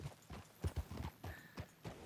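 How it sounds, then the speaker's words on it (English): Horse hooves clip-clop at a steady riding gait in Red Dead Redemption 2, a rhythmic run of soft, close hoofbeats over a quiet outdoor background. "Perfect for riding around with an unconscious / dead guy on the back of your horse."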